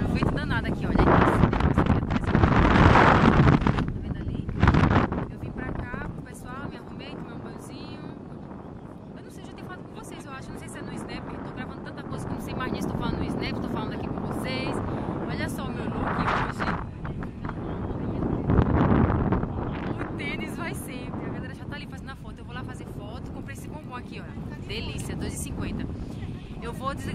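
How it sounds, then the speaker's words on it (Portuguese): Strong wind on a beach in Aracaju buffets the microphone with heavy, uneven rumbling gusts, loudest in bursts near the start and again later, while people talk over it. "Tá um vento danado aqui,"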